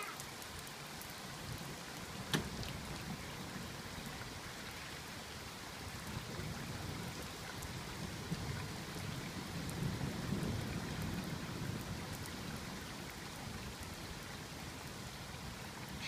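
Steady rain falling all around, a dense soft hiss with scattered drops and a faint low rumble, no voices.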